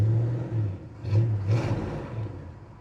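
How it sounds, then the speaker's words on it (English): A restored 1965 Pontiac GTO with a 389 V8 idles with a deep, throaty exhaust burble, blipped twice in quick succession into short revs that rise and fall back to a rumbling idle, close and clear. "Exhaust on this sounds awesome."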